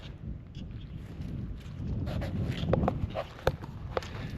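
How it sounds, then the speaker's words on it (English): Strong wind buffets the microphone on an exposed slope of Pikes Peak above the tree line, a steady low roar with gusts, along with a few crunching footsteps and faint clatter close by. "the wind has definitely picked up quite a bit"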